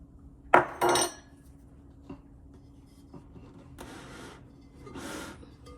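Canola oil being stirred into bao bun dough ingredients in a bowl: a few sharp clinks and knocks of a utensil against the bowl, then two softer bursts of brushy scraping, fairly quiet and without talk.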